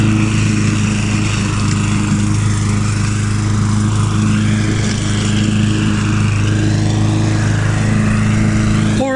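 A Mountfield M4 lawn mower engine runs steadily and loudly, close by, with a constant droning hum and no pauses for the whole stretch.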